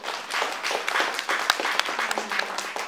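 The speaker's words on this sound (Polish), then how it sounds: "nie ma jej, ale brawa dla niej." A small audience claps at a language school's first birthday celebration, a brisk, uneven patter of hands at moderate volume lasting a few seconds with a couple of sharper individual claps standing out.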